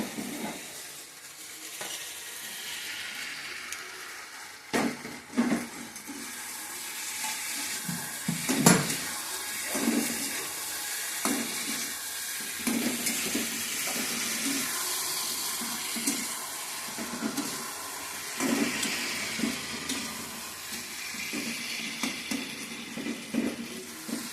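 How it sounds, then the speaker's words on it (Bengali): Fried eggplant pieces tipped into a kadai and stirred, giving a steady watery sizzle with scraping, clattering stir strokes that recur throughout, fairly close and loud, with no talking. "এবার আমি এই অন্য কড়াইতে রেখে দেওয়া ভাজা বেগুনগুলো আমি এই কড়াইতে অ্যাড করব।"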